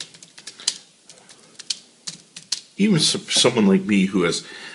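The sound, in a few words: typing on Zagg Keys Flex Bluetooth keyboard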